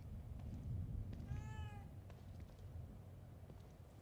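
A cat in the video game The Evil Within 2 gives a single drawn-out meow, rising then falling, over a low rumbling in-game ambience, with no talking.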